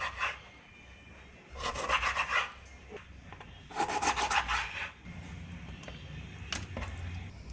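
A knife cuts a stingray into small curry pieces, with steady rasping, scraping strokes coming in two louder bursts over a low background hum.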